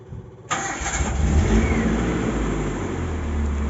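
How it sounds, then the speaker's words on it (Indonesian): A 1995 Daihatsu Espass 1300cc car engine that had sat unused for six days cranks briefly and then catches, settling into a loud, steady, close idle. "Nah, mesin langsung nyala."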